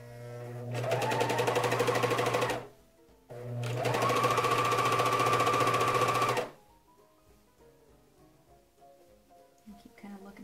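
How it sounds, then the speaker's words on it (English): A serger stitches through three fabric layers, velour on the bottom, along the top of a fitted diaper's front panel, running in two loud, steady bursts with a short pause between, followed by quieter handling sounds. "I'm going to start serging at the front panel on the very top."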